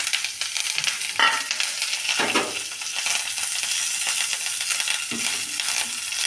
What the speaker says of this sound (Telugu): రెండు స్పూన్లు నెయ్యి వేసి అదిగోండి కరివేపాకు వేస్తున్నానండి